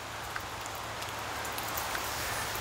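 Rain falls on a peregrine falcon chick's nest on a cliff ledge, making a soft, even hiss with scattered faint drop ticks throughout. No one speaks.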